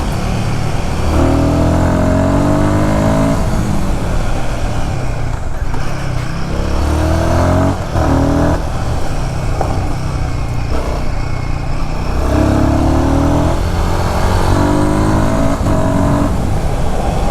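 A Royal Enfield Guerrilla Apex 450 motorcycle engine runs loud and close as the throttle opens in repeated surges. The pitch climbs and drops across several gear changes over a steady rumbling drone, with no voices.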